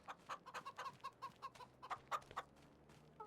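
Chickens in Farming Simulator 25 cluck in a quick irregular run of short, fairly quiet calls, several birds overlapping in steady bursts with no talking.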